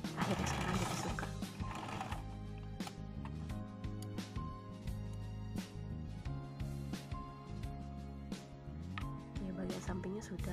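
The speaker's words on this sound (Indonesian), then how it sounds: "Ini aku memanfaatkan mesin jahit portable." A portable sewing machine stitches fabric for a chair cover, giving a busy mechanical whirr with rapid clicking needle strokes throughout, mixed under a voice and background music.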